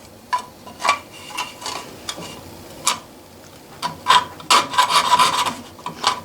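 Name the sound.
German jeweler saw cutting sheet metal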